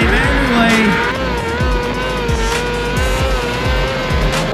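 Micro sprint cars racing side by side on dirt, loud close engines screaming continuously with rising and falling pitch and repeated gear-like surges, no talk heard.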